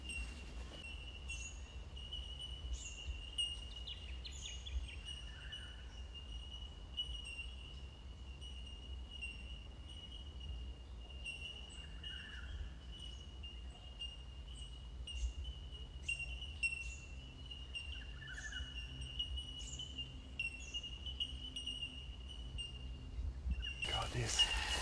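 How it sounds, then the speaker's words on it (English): A faint, high, repetitive squeaky call from a baby yellow-tailed black cockatoo keeps sounding over quiet outdoor bushland background noise, begging from some distance. "That noise you can hear in the background is a baby yellow-tailed black cockatoo"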